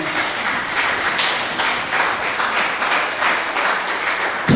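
A church congregation applauds together, a dense and steady wash of many hands clapping near and far that carries on without a break, with faint voices mixed in.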